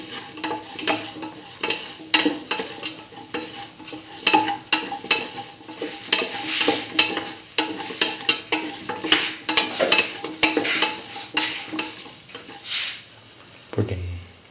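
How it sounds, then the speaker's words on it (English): Fennel powder and salt stirred into a kidney bean and chayote stew as it cooks, a continuous scraping stir with utensil clinks against the pot over a soft sizzle, close and steady throughout. "Salt and mix the fennel powder with the rest of the mixture."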